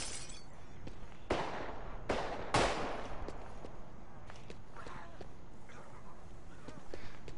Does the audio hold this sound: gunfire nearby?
yes